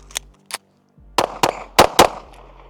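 Several shots from an Arma Zeka AZ-P1 Vigil pistol ring out in an uneven sequence: two quicker reports, a short pause, then four sharper cracks grouped close together, each loud and close with a brief decay.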